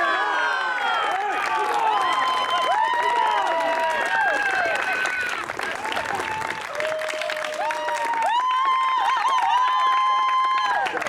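A live audience claps and cheers after a reading of the Declaration of Independence, steady applause mixed with whoops and a few shouted voices throughout.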